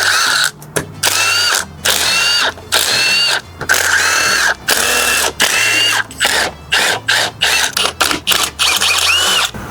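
A power tool whirs in short repeated bursts with ratcheting clicks between them, removing bolts from the side cover of a Yamaha 660R quad engine, loud and close with no talk.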